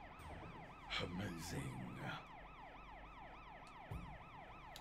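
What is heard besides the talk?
vehicle siren in the video game Sleeping Dogs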